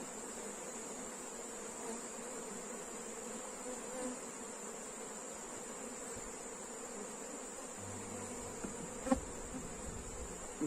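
A dense, unbroken hum of honeybees circling an open hive box, the steady buzzing holding close and even from start to finish, with a brief low rumble and a sharp knock near the end.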